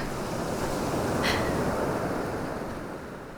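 Ocean waves wash onto a shore in a continuous, fairly close roar with a gentle swell that slowly fades, mixed with a little wind and no speech.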